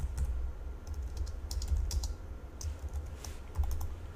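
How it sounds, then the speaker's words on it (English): Soft, rapid keyboard typing with irregular clicks of keys, quiet and close, over a low background hum, no voices. "as I continue typing here"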